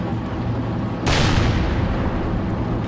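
A single loud tank cannon shot from the World of Tanks game bursts in suddenly as a broadband blast, then rolls on as a sustained rumble under low engine hum.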